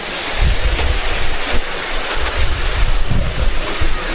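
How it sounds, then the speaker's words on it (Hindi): A loud, constant roar of Vasudhara Falls near Mana Village, India, rushing and falling close and unbroken from overhead, with wind buffeting the microphone. "मैं वसुधरा फॉल के नीचे खड़ा हूँ और मेरे ऊपर पानी गिर रहा है।"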